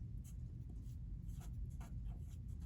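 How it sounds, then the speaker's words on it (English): A pen or pencil writes on paper while working out a percent as a fraction, producing faint scratchy strokes in short bursts over a low background hum. "in fraction form, you write the percent"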